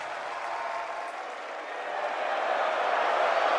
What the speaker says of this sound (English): First cheer I've heard for Apex all week.